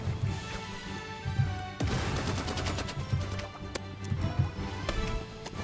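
Flare gun shots in the Roblox shooter Rivals come as a few sharp bursts over busy, layered game audio, with a strong hit near the two-second mark.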